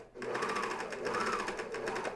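A coverstitch sewing machine runs steadily over the serged edge of a pajama top, a continuous close mechanical whir with rapid rhythmic needle pulses for about two seconds.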